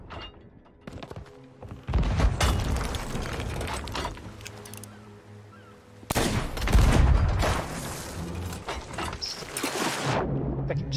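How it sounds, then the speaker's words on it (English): Ship cannons firing in Sea of Thieves, with several loud booming blasts in two bursts amid mechanical clunks and ship noise, no talk. "You hit it with cannons."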